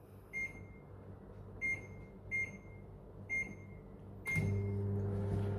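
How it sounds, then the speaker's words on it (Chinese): A microwave oven heating butter gives four short beeps as buttons are pressed, then starts up with a steady low hum that carries on to the end. "所以牛油呢，我们会放进微波炉煮大概20秒这样。"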